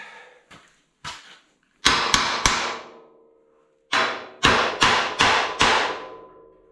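A hammer strikes metal about ten times while a coilover suspension part is tapped into place on a 1981 Chevrolet C10 pickup: a couple of light taps, then sharp ringing blows in two bursts separated by a short pause.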